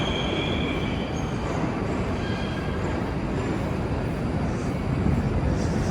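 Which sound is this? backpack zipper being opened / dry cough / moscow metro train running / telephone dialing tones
moscow metro train running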